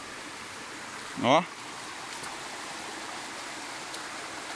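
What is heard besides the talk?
Quitite waterfall stream flowing, Jacarepaguá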